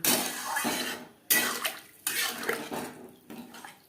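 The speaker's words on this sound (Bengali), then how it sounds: "মশলার সাথে আলুগুলো রান্না করে নেওয়ার পর দিয়ে দেবো জল" Water is poured into a pan of potatoes cooking with spices, coming as three splashing, gushing bursts separated by short pauses, close and fairly loud.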